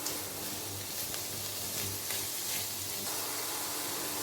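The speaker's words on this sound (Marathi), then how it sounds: "सगळ्या भाज्या फोडणीमध्ये मिक्स करून घेते" Chopped vegetables, including capsicum and steamed peas, are stirred into a hot spice tempering for fried rice, giving a loud, continuous sizzle with faint scraping of the spoon, close and without talk.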